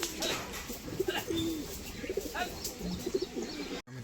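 High-flying pigeons coo softly in short repeated bursts against a steady outdoor hiss, with a brief bump near the end.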